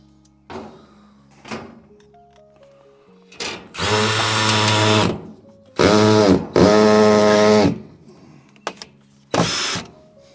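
A power drill drives screws into a greenhouse frame built from skip waste, with short whirring bursts at first, then several longer loud runs that speed up and stop, each separated by quiet pauses.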